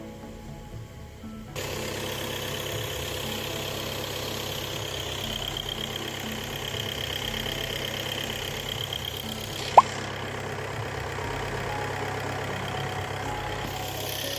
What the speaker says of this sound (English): then engine idle on 1000 RPM.